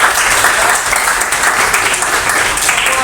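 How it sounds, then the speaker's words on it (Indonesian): A classroom of students claps together, with dense, steady applause sustained at close range throughout. "Tepuk tangan dulu untuk kita semua."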